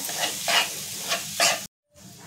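Chopped potatoes and peas sauté in spices in a pan, loud sizzling with rhythmic stirring scrapes, then a brief dropout into silence before a softer sizzle resumes.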